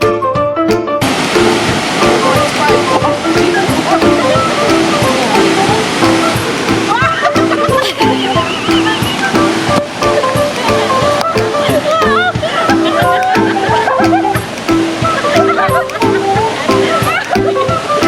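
Loud, steady rush of a waterfall seen on a glacier hiking trip, filling the whole stretch with dense splashing roar; a voice and other speech surface faintly beneath the water.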